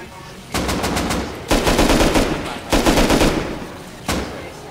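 An AK rifle in a video game fires four quick automatic bursts, each a loud rapid rattle of shots separated by short pauses.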